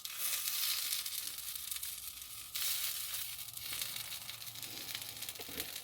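A homemade vegan black bean burger sizzles in a pan over high heat, a faint but continuous crackling fry with one brief dip midway and a light scrape near the end.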